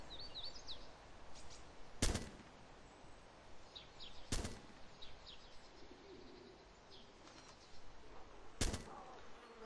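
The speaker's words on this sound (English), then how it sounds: "Somebody's shooting around here." Three sharp, fairly loud gunshots spaced a couple of seconds apart ring out in a video game, with pigeon-like cooing and soft bird chirps continuing in the background between them.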